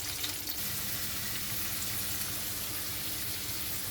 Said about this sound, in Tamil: அது கூடவே வெங்காயத்தையும் சேர்த்து போட்டு நல்லா வதக்கிப்போம் பொன்னிறம் ஆகிற வரைக்கும்.